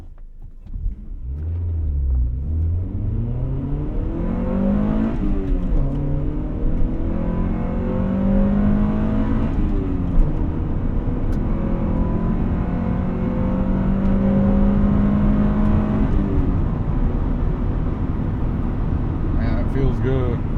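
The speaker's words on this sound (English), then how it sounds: "we're just going to go ahead and do a easy going 0 to 60." A 1998 Honda Prelude Type SH accelerates from a standstill to 60 mph, its engine note rising steadily through the gears with brief dips at each shift, loud and close from inside the cabin.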